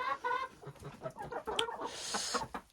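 Farm chickens cluck in a short, busy burst of overlapping calls, fairly close and moderately loud, with no talking over them.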